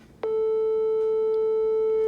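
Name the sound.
sine wave tone from a tuning app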